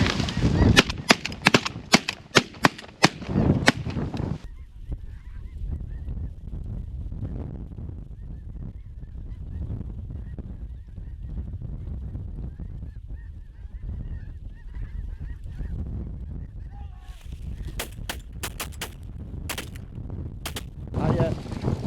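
Snow geese honk loudly during a North Dakota hunt while rapid shotgun blasts crack near the start and again toward the end, with a steady backdrop of goose chatter in between.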